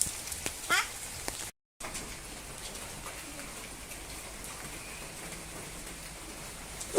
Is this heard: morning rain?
yes